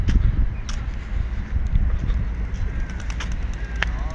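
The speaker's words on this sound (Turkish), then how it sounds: "Şimdi şu güvercinler var, bakın güvercinleri çekelim." Pigeons feeding in Hasan Ağa Park, Buca, İzmir give soft scattered flutters and faint coos over wind noise and a low outdoor rumble.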